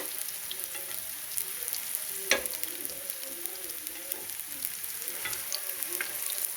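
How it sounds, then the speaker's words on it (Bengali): Mustard flower fritters frying in hot oil, a steady close crackling sizzle with one sharp clink of a utensil against the pan, alone and without talk. "এখন আমি বড়াগুলো উল্টিয়ে দিব।"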